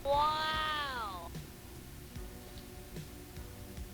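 A cat gives one clear, close meow, with a rising and falling tone lasting about a second, followed by quieter background noise and light tapping sounds.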